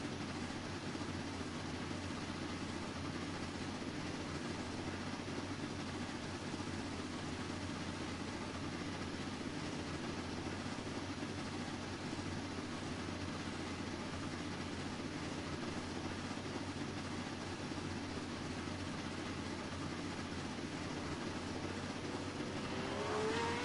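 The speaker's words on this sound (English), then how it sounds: "we have started off with the Alfa Romeo 156 Group A DTM. Fantastic little car to have on board." Alfa Romeo 156 Group A DTM race car in Assetto Corsa, a steady engine drone held at a constant level with no audible revving changes, playing alone.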